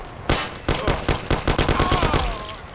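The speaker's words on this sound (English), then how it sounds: "Shoot the bastard!" A rapid burst of gunfire in the video game Mafia, about a dozen loud close shots in quick rhythmic succession, echoing briefly as the volley trails off.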